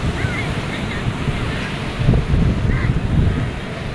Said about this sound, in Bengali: উত্তাল সমুদ্র একেবারে।